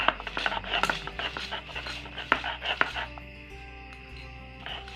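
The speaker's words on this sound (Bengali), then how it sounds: "এবার শিলপাটায় আমি রসুনের কোয়াগুলো ছাড়িয়ে ভালো করে কুচি করে নিয়েছি। এবার আমি শিলপাটায় বেটে নেব।" Peeled, finely chopped garlic cloves ground on a shil pata grinding stone, heard as a close rhythmic rubbing and scraping in short repeated strokes with occasional sharper knocks.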